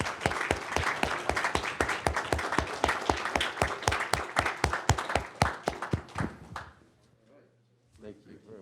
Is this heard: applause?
yes